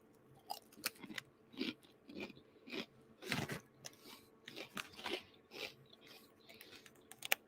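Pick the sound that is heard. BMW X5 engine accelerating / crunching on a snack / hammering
crunching on a snack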